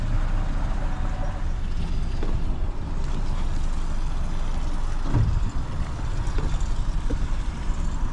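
A brand-new Suzuki 90hp outboard engine idles steadily during its break-in warm-up on flat calm water, a constant low engine rumble that runs throughout without pause and carries no talk.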